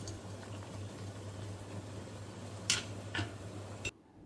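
Rice boils in a pot on a stove, a steady bubbling simmer over a low hum, with a couple of brief clinks near the end before it cuts off.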